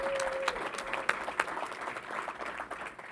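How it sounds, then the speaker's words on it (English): Audience applause at a governor's press briefing, a short burst of scattered clapping that is moderately faint and roughly even, with a brief tone fading at the start. "We have to give him a round of applause."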